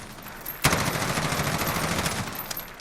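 Rapid automatic gunfire from an M16A4 rifle fired from the hip in Call of Duty Modern Warfare, a sharp onset followed by a sustained, loud burst of shots with no talk.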